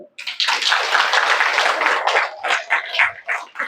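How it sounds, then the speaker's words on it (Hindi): An audience of women at a spiritual class breaks into sustained hand clapping, a loud dense wash that tapers into scattered claps toward the end, with no talking. "ताली तो बजाओ"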